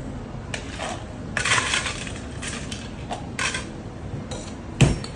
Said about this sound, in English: This is the hard shake.